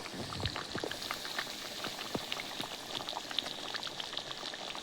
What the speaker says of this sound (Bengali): তরকারি ফোট চলে এসেছে